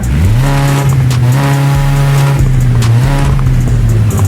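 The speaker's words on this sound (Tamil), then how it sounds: "காரோட சவுண்ட் கேளுங்க" An old-model car in Forza Horizon 5 holds a loud, steady droning engine note with rich harmonics, its pitch dipping and rising slightly as it idles and revs, with no talk.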